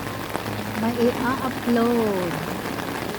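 Steady rain falling outdoors on a rainy day, a constant dense hiss throughout, with someone talking over it.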